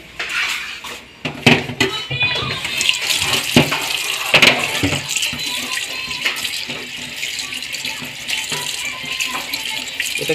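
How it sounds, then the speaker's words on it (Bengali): Aloe vera leaves rinsed under a running tap in a sink, water splashing steadily with intermittent clatter of dishes and handling knocks close by, no talking. "আমি এই অ্যালোভেরাটাকে সর্বপ্রথম একটু ভালো করে ধুয়ে নিই"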